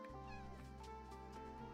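A cat meows softly in the video game Cozy Grove, a faint call over steady tonal background music.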